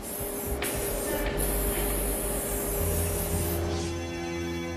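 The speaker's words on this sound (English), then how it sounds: "Up to 5 layers of paint are applied. And where robots can't reach," Spray gun applying paint to Lexus LFA car body panels in a factory paint booth, a continuous close hissing spray with brief pauses and an underlying mechanical hum.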